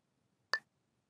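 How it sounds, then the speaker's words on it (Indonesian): A single short electronic tap or key beep from a mobile phone as a woman types a text message, one brief crisp click standing alone in near silence. "wanita itu mengetik SMS di ponselnya."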